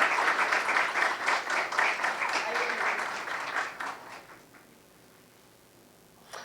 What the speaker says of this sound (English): Please, a huge round of applause for her.